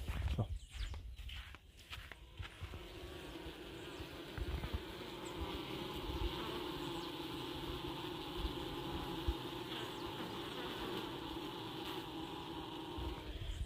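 Dense, steady buzzing of a bee colony at a hive box during an early-2024 honey harvest, a continuous drone that fills the whole stretch with a few light knocks near the start.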